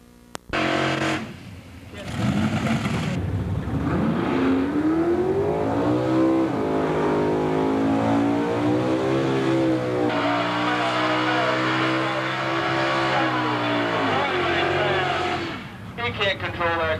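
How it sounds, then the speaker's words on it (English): Drag racing car in the 1997 Gamblers Classic final, a loud sustained engine roar whose pitch climbs and wavers as it accelerates hard, dominating the whole stretch before cutting off near the end. "Can't control that car. That car's fast. It's got more power than he knows what to do with."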